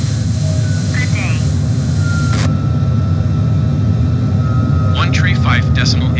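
A Cessna's piston engine in Microsoft Flight Simulator, climbing out near Athens, gives a steady, loud, low drone that holds for the whole stretch, with a few brief electronic tones and radio chatter over it.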